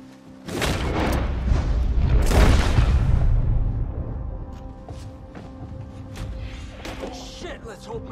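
A single heavy gunshot booms up close in Red Dead Redemption 2, a deep thud that fades over a few seconds.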